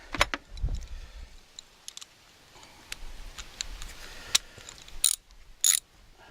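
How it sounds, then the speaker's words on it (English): Ratchet with a 10 mm socket loosening a fog light mounting bolt on a 2008 Toyota Tundra, giving scattered quiet clicks and a few sharper metallic ticks near the end, close by with no talk. "get out my 10 millimeter socket"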